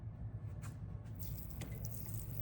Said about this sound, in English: I am just gonna put a little bit of water on the top of all of them